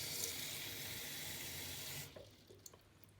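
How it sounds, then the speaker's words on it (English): A kitchen faucet runs steadily into a half-cup measuring cup for about two seconds, a close, even rush of water that then cuts off, leaving a few faint drips and clinks. "I'm just gonna fill it up with some water."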